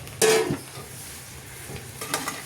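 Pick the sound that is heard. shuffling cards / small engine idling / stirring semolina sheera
stirring semolina sheera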